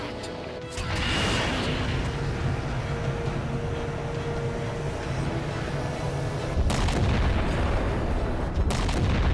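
The gravity well in Halo 4 is destroyed in a heavy, sustained explosion: a sudden deep boom swells into a long rumbling roar, with further blasts surging in toward the end.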